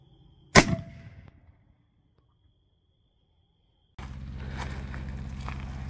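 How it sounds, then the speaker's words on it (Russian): A single sharp, loud bang from a bird-scaring cannon, used to keep birds of prey from chickens, rings out and fades with a short echo, followed by silence and then steady outdoor background noise. "То есть пушка, она у нас для того, чтобы верхние хищники у нас не тягали курицу."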